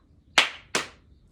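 Two quick, crisp hand claps in a double-clap pattern for the Israeli circle dance Zemer Atik, close and clear against a quiet background.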